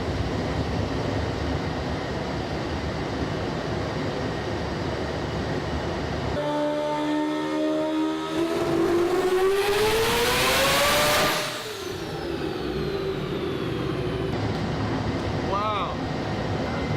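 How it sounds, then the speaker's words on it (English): Turbo four-rotor Mazda RX-7 doing burnouts on a dyno, a loud sustained engine roar that climbs to a screaming peak near the end before falling away. "Doing burnouts on the dyno."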